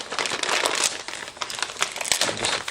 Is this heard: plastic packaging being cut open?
yes